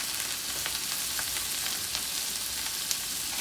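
Leeks and mushrooms frying in brown butter in a pan, a dense steady sizzle with scattered tiny pops and crackles throughout, no talking.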